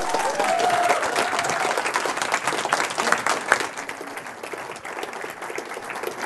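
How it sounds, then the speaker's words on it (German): Sustained audience applause welcoming a stage performer at a live cabaret evening, dense clapping from a full crowd that stays loud throughout, then eases slightly toward the end. "mit einem ganz, ganz herzlichen, wilden, leidenschaftlichen Applaus"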